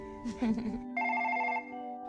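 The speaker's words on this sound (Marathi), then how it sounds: "घ्या यांचे फोन वाजायला लागले" A telephone starts ringing with a bright, steady electronic trill after a woman's brief speech, sounding close and moderately loud in a home.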